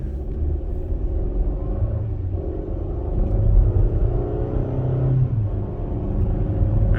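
A car engine runs steadily on a short road test along a quiet dead-end street, giving a continuous low rumble with mild swells as the car pulls and slows; the engine has been neglected and has been making a clatter.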